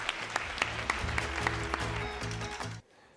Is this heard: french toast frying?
no